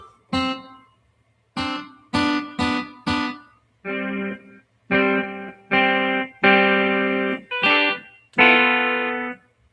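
Distorted electric guitar chords strummed one after another in short bursts, some quick and choppy, others ringing out longer, with a faint steady hum underneath.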